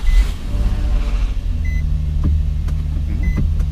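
A Nissan 350Z with a freshly replaced clutch runs with a steady, close engine drone that carries low harmonics throughout, while a few short electronic chimes sound over it.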